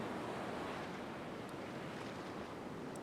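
Ocean surf on a beach, big waves breaking in a steady broadband wash with wind noise on the microphone, continuous and fairly faint with no voices.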